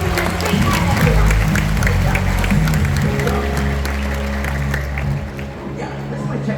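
Audience applause at a bird show in a park, a dense wash of clapping from a crowd that holds steady and then thins out, with an amplified voice speaking over it.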